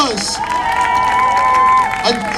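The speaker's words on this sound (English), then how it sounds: "Hey, big round of applause." A rally crowd at a free Palestine protest outside Elbit offices in Oldham cheers, whoops and applauds, loud and close, with shouting voices rising and falling over the noise.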